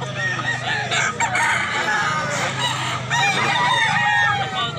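A rooster crows repeatedly at a rural chicken market in Mantalungon, Barili, Cebu, loud and close among other fowl and background chatter.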